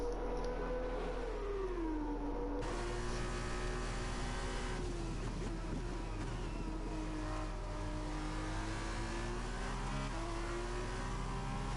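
An F2 2021 race car in the video game at Bahrain under heavy throttle, the engine revving hard and steadily, its pitch sweeping up and settling as it accelerates, close and sustained.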